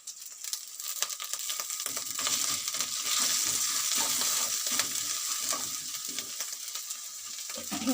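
Ginger and garlic paste sizzling in hot oil in a pan with fried onion and ground cumin and coriander, a steady close frying hiss with stirring scrapes and small clinks throughout, no talking.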